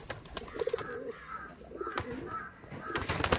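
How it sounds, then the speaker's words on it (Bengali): Soft repeated cooing from a green Mantas pigeon kept in a home loft, several low rolling coos close by with faint background noise between them. "একটা সবুজ ম্যান্টাস পেয়ার দেখায়"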